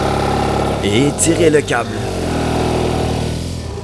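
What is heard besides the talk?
motorcycle engine slowly turning the wheel to pull it out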